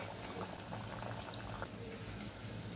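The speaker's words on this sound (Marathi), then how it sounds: "अशाच प्रकारे उरलेल्या वड्या मी तळून घेते" Palak vadi, spinach gram-flour fritters, frying in hot oil, with a continuous dense sizzle and bubbling, steady and close throughout.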